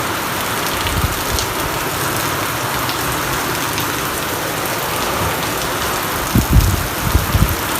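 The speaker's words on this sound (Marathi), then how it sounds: "पावसानं जोरदार सुरु सुरुवात केलेली आहे मस्तपैकी सकाळपासून पाऊस चालू आहे" Heavy, steady rain pours down across the whole stretch, a dense even hiss of drops on surfaces with a few louder splashes near the end; no voices.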